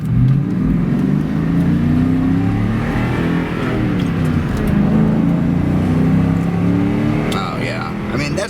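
A 1996 Ford Mustang SVT Cobra V8 on its factory exhaust revs loud and close, its deep engine tone rising and falling through several blips with no pause.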